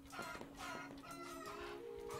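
In an undead horde necromancer game, chickens keep clucking and chattering in short bursts over a steady hum of game background sound, with no one speaking.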